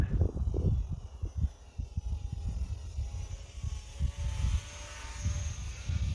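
An Eachine T-28 RC model airplane makes close passes in steady wind, its small motor buzzing and swelling as it sweeps by, fairly faint against wind rumble.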